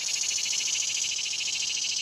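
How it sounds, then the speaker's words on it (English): Cicadas drone in a garden where luffa vines grow, a steady, loud, shimmering buzz with a fast pulsing texture that holds unbroken throughout, with no voices. "Cicadas are out."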